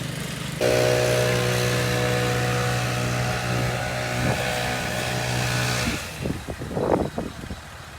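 A Gravely mower engine runs loud and close with a steady droning hum for about five seconds, then drops away into a few scattered clunks and rustles.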